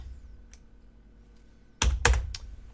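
Keys on a computer keyboard clack in a few loud, close bursts after a quiet stretch, with faint taps early on, during a live stream.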